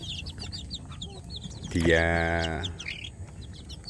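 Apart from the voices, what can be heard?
village chicken chicks chirping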